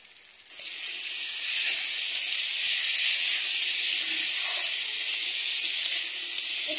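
Potato curry sizzles in a pan with a steady, loud, unbroken hiss while it is stirred constantly, with no voices.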